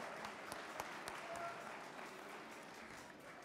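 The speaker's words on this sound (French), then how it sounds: "Applaudissements pour Dimitri, s'il vous plaît" Studio audience at a French cooking contest applauds a contestant, a steady, moderately distant clapping that holds evenly throughout with no speech over it.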